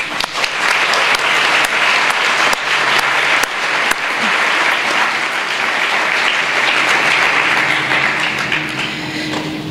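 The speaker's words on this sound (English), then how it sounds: "I think the students deserve their own round of applause." A school speech day audience applauds the students, a loud, dense and steady round of clapping in a hall, with a few sharper claps standing out early on.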